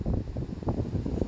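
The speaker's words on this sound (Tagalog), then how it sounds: "Sobrang lakas ng hangin mga idol oh." Strong coastal wind at Pagudpud, Ilocos Norte, buffets the microphone with continuous low rumbling gusts, loud and close, with no one speaking.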